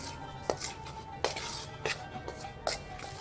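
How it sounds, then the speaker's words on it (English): A chef stirs cookie batter of all-purpose flour and almond powder in a bowl, the utensil knocking and scraping against the bowl in a series of regular, moderately loud clinks. "now he's mixing all of these ingredients together"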